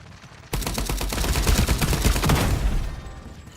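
Rapid automatic gunfire from the shooter game FragPunk erupts after a half-second lull, a dense sustained burst of close, loud shots lasting about two seconds before cutting off.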